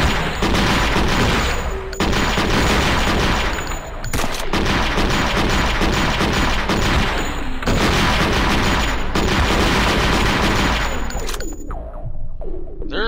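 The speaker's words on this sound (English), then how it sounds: "they're shooting at me" Heavy, continuous gunfire in the video game Thing Thing 3, loud and sustained for over ten seconds with brief breaks and metallic clangs, then trailing off near the end.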